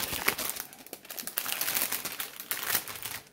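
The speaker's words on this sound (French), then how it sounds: "Hop. On va déballer ça." Plastic packaging of a Painting Fairy cross-stitch kit is crinkled and crumpled close up in a busy run of rustling bursts.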